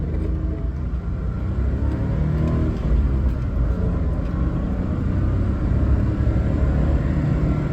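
Daihatsu Atrai kei van driving slowly in four-wheel drive, a steady low engine drone and road rumble from inside the cabin, continuous and fairly loud with no talking.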